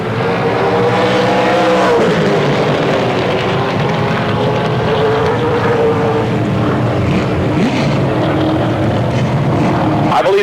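Camaro-bodied race car running at Motordrome Speedway in 1992, producing a loud, continuous engine roar that rises and falls in pitch as it laps, with crowd and track ambience underneath.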